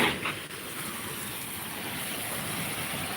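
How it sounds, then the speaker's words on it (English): Water sprays steadily onto a cluster of banana plants at dark early dawn, a continuous broad hissing wash that stays fairly loud and even from start to finish. "I'm watering that cluster up there"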